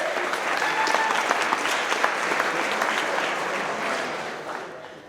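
Steady, dense applause from a company crowd at a trucking firm's monthly employee celebration, sustained and fairly loud throughout without breaks.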